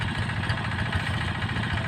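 A Kubota tractor on farm soil runs close by with a steady, rough mid-low engine chug and a rapid puttering pulse, constant throughout and with no talk.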